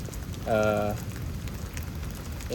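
Steady rain falling during an evening thunderstorm in Houston, Texas, a continuous moderate hiss of drops, with a brief voice sounding early on.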